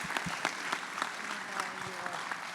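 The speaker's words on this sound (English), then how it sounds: "Please give this panel a round of applause." Audience applause for a small-business funding panel on stage at a conference session, steady dense clapping throughout with faint voices mixed in.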